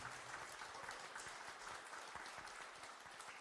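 An audience applauds event volunteers and workers at a podcast panel gathering, dense, steady clapping from many hands that holds at an even level throughout.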